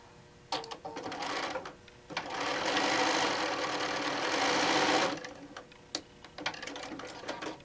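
A sewing machine stitches quilt pieces C and D together for a simple three-yard quilt, running in short bursts before one steady, loud run of about three seconds, then stopping with a few brief clicks and handling noises.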